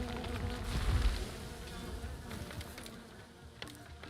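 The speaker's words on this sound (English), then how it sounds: "Oh, bees." Bees buzz around a tree in the island crafting game Len's Island, a close, steady droning hum that swells briefly and then settles under faint rustling.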